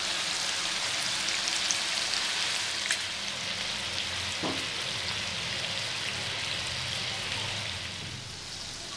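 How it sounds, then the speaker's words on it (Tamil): Prawns fry in a pan with a steady, dense sizzle and crackle that holds evenly throughout and eases slightly at the end, heard close with no one talking. "அந்த சைடு நல்லா ஃப்ரை ஆகட்டும்."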